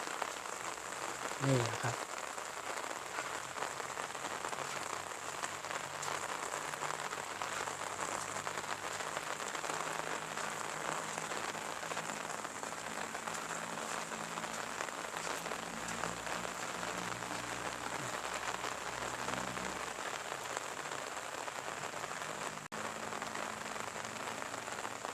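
Steady rain falls outdoors on a rainy day during a nature walk, a continuous even hiss of drops spread across the whole stretch, with a voice speaking briefly near the start.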